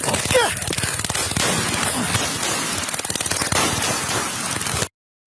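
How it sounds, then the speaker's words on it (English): Rapid bursts of gunfire during a police confrontation crackle continuously under a noisy, distorted background for several seconds, then cut off abruptly into silence. "Then you hear the gunshots."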